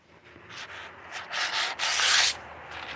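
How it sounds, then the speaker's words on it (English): Sandpaper rubbed by hand over the hard, thin skin of a dried gourd, a close, dry scratchy rasp in uneven strokes that grow longer and louder toward the end, with no talking. "I'm gonna sand it down as much as possible because, you know, the skin on these is only so thick."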